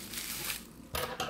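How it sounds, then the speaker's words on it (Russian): Brief close crinkling and rustling of bubble wrap, with a couple of louder crackly handling bursts. "Пупырка."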